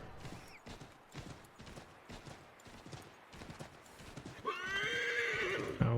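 Rapid hooves clatter along in the video game Assassin's Creed 3, followed by a loud horse whinny near the end, with no talking.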